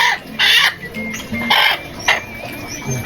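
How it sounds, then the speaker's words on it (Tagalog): A few short, throaty clucking bursts from a chicken, close by, coming in uneven spurts with quiet gaps between them. "Ilalabas ko na nga rin pala guys itong ating pangalawang manok."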